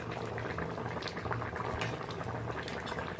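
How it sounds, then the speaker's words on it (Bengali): Sour fish curry with mango and sweet potato boiling in a pot, a continuous close bubbling and gurgling with a low rumble, steady throughout. "আর 5 মিনিট আমি টকটা একটু ফুটিয়ে নেব"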